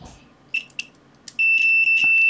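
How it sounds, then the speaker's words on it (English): A few short clicks as hook clip test probes connect, then a multimeter in continuity mode sounds a steady high-pitched electronic beep continuously at close range, briefly broken once before resuming. "let's make sure our continuity mode beeper is still beep beep beeping"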